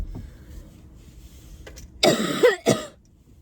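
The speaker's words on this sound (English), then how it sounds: "I have to cough." Two or three harsh, close coughs burst out in quick succession over a low background hum, with no talking.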